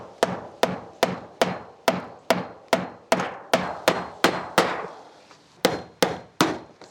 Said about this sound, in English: we're just going to hammer this into place